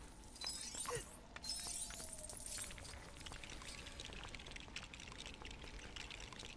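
Water spraying onto a fire in the LEGO Batman 2: DC Super Heroes video game, a rushing, splashing pour with glassy crackles that runs steadily at moderate loudness for several seconds, mixed with game effects.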